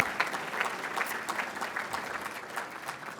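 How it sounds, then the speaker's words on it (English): Audience applause at a 2019 breakfast gathering, steady moderate clapping from many hands sustained throughout, fairly close and without talk. "Yeah, we can clap for that too."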